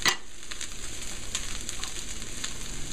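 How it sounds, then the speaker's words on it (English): Spam and kale fried rice sizzles steadily in a hot pan over high heat, a close, continuous frying hiss with a sharp burst at the start and soft stirring scrapes throughout. "give it a little bit more color by frying it in the high heat"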